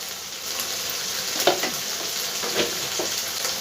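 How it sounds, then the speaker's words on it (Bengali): Ground spices, turmeric, coriander, cumin and salt, frying in hot oil in a pan as a steady, close hiss broken by a few soft scraping stirs. "এবার সব মশলাগুলো আমি খুব ভালো করে ভেজে নেব যতক্ষণ না এর থেকে তেলটা ছেড়ে আসছে"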